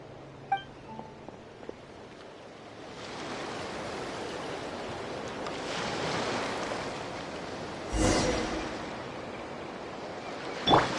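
A surfboard carves through ocean waves in a video game: a steady, washing surf that swells and recedes, with a brighter splash near the end and a few faint clinks early on.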